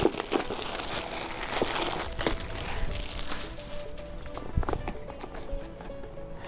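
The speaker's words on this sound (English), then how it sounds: "there was a hole in this one cellophane, so I'm gonna just rip it from there" Cellophane wrapping being torn off a Windows 95 box, a close, busy crinkling and crackling with sharp rips, gradually tapering off, no talking.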